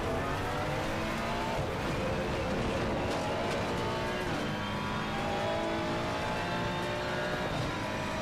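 Race car engine from a McLaren Artura at Kyalami in a racing video game, revving hard and shifting through gears with a steady, dense roar and brief tire squeal.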